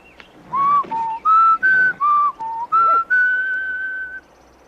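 A person whistles a short tune of seven crisp, clear notes at close range, ending on a long sustained note.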